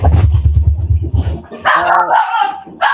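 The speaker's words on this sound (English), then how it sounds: "It sounds like the dog is attacking their delivery person again." A dog barks and yips at a delivery person in the distance, a burst of sharp barks followed by whining and higher yelps, heard faintly from another room behind a quiet indoor space.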